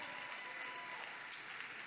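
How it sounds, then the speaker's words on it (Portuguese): Faint, steady clapping from a church congregation, a continuous wash of applause heard at a distance. "Aplauda o Senhor."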